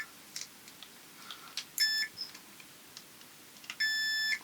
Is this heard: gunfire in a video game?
no